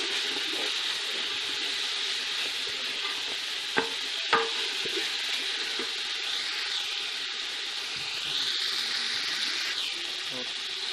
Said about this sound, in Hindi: और इसको अच्छा से मिक्स कर देंगे।